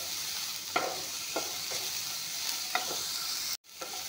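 Onion and green chilli sizzle in a hot pan while a utensil stirs them in regular scraping strokes over a constant frying hiss, heard up close with no speech.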